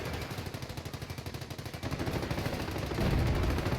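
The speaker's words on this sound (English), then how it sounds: "Machine gun just killed someone." Machine gun fire in Company of Heroes, a steady rapid stream of loud rattling shots that continues without a break and grows slightly heavier near the end.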